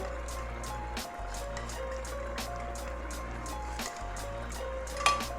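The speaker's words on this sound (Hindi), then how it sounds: "3 टेबलस्पून के करीब दही है, इसे मैंने अच्छी तरह फेंट लिया है, ये इसमें चला जाएगा।" Whisked yogurt poured into a mutton karahi in a Lahori-style kitchen, a soft liquid trickle and plop over a steady low background hum, with a couple of brief pauses.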